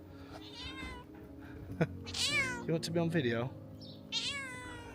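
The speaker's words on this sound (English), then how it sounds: "what a beautiful cat" A cat meows several times outdoors at an Italian villa near an olive grove, its drawn-out calls rising and falling close by while a person talks over and between them.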